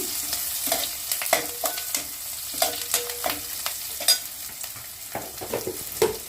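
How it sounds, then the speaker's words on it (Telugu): Eggplant curry with curry leaves, village style, frying in a pan while a spoon stirs it, giving a steady sizzle broken by frequent scraping clatters, close and fairly loud, with no voices. "దోరగా వేయించుకోవాలి ఇలా దోరగా వే వేగాక కొంచెం కరివేపాకు వేసి ఒకసారి కలుపుకొని"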